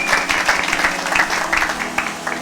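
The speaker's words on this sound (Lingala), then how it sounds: "Acclamer pour la gloire de Jésus-Christ" A church congregation applauds: dense, sustained clapping from many hands, close and even throughout, with no speech over it.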